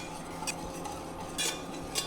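Whisk stirring melted butter in a bowl for a chocolate cola cake, soft steady scraping with a few brighter metallic clinks of the whisk against the bowl, close and quiet.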